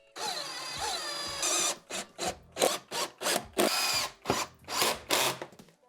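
A power drill with its torque turned down runs in a series of short, loud whirring bursts with brief pauses between them, driving screws close up during a KitchenAid dishwasher repair.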